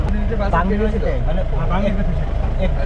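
A vehicle drives through the middle of a dry river bed on a remote hill road, its engine a steady low rumble running throughout beneath several people talking close by.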